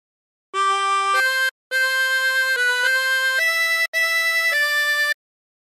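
Tremolo harmonica with 24 holes plays the opening phrase of Hark the Herald Angels Sing, a series of sustained, reedy, wavering notes in three breaths with short gaps between, loud and close with no voices.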